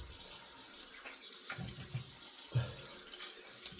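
Tap water running steadily into a sink as shaving cream is rinsed off, with a few brief splashes and gurgles, no talking.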